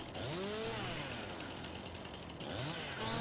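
A chainsaw cutting wood in the game Farming Simulator 19 revs up and down in rising and falling sweeps over a steady, loud mechanical drone, with no talking.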